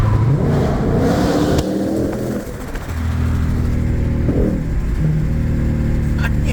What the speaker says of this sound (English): Here's the exhaust underneath the tunnel. You kind of hear it.